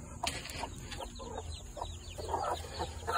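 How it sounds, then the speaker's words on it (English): A lot of farmyard chickens cluck and squawk continuously at close range, some calls overlapping. A steady outdoor background sits underneath, and no one speaks. "It's a lot of chickens."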